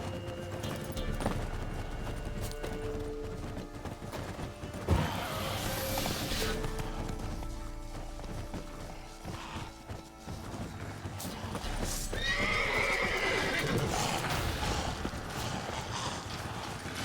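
Roach the horse in The Witcher 3 trotting with steady rhythmic hoof clip-clops close by, a neigh rising midway, mixed with game ambience and clanking effects throughout.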